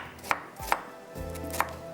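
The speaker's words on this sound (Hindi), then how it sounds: "फ्रेश अदरक को भी चॉप करके डालेंगे।" Fresh ginger chopped on a board, three crisp knife knocks spaced unevenly over a low hum, close and without voices.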